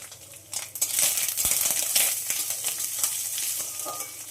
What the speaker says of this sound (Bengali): যতক্ষণ না নারকেলের কালারটা চেঞ্জ হবে ততক্ষণ একটু ভেজে নিতে হবে।